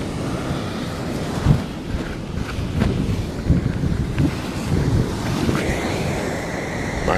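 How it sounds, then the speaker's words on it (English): Ocean waves wash and break on a beach at sunrise, a steady broad roar of surf with wind buffeting the microphone and occasional louder surges, no talking. "here come the waves!"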